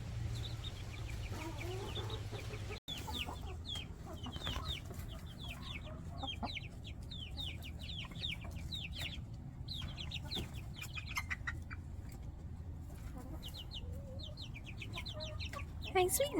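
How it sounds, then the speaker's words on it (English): Young chickens, mostly roosters, cluck and chirp in a backyard run beside their coop. Their busy, overlapping peeping and clucking runs steadily throughout, close and moderately loud, and there is no talk. "I think majority of them are roosters."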